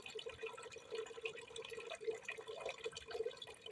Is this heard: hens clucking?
no